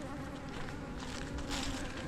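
Honey bees buzzing in a steady, dense drone during a December bee yard inspection, close and continuous with no voices.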